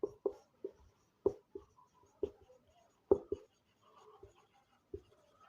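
Pen on paper during a chemistry lesson, heard as a close, quiet series of short, separate scratches and taps with brief gaps between strokes.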